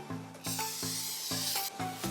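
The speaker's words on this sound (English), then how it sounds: "First, spray with oil." A spray can of cooking oil hisses in a few short bursts into a saucepan over soft background music, close and fairly loud.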